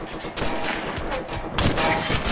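Gunfire in Operation Flashpoint: Red River, with dense rifle shots and bursts rattling steadily throughout, and a sharper, louder volley near the end.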